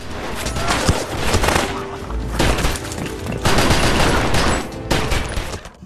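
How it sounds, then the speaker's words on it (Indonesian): Heavy gunfire in an action film scene as a man sprays bullets at a boss and his henchmen: dense, loud bursts of shots and booms that keep returning in waves across the whole stretch. "Mason yang mengetahui hal itu langsung menghujani peluru ke arah Briggs dan anak buahnya."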